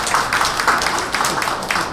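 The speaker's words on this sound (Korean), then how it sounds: "박수로 맞이해주시면 감사하겠습니다." Audience applause at a Korean political campaign rally welcoming a National Assembly candidate for Incheon, a steady wash of clapping from a crowd that fills the whole moment without speech.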